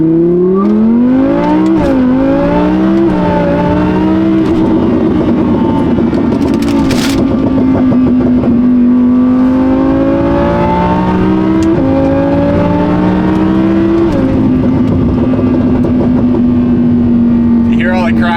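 Audi R8 engine revving hard through a loud aftermarket exhaust, pitch climbing and dropping through gear changes with a steady whine, heard from inside the car as people talk over it.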